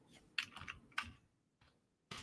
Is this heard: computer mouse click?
yes